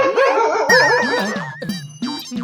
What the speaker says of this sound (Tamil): பார்த்தா இங்க நாய் இருக்கு.